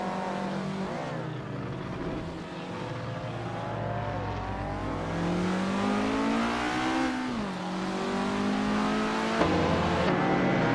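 Race cars in an AI car race rev and accelerate with a continuous engine roar. Rising and falling pitch sweeps overlap as several cars push hard down a straight, loud and close, with no talking.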